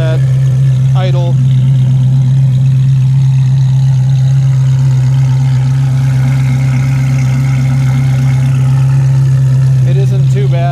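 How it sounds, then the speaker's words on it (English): A Ferrari F430 fitted with AP headers idles outdoors, a steady deep exhaust drone holding a constant low rumble throughout, loud and close, with a few faint background sounds layered over it. "The car is at idle."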